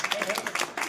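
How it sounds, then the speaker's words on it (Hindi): Applause from an audience at a felicitation program honoring newly elected members, with dense, steady clapping filling a short burst, fairly loud and continuous with a few sharper accents. "जोरदार तालियां बजा दीजिए।"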